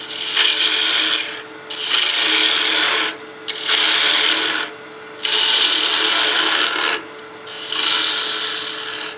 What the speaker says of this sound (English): Half-inch spindle gouge is a great tool for removing a lot of material quick.